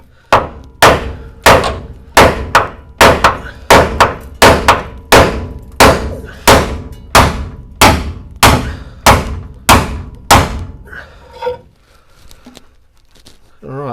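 Hammer blows drive a bolt out of a 1964 Ford Falcon Futura, about seventeen loud, sharp metallic strikes in a steady rhythm close by, then a few softer knocks and a pause.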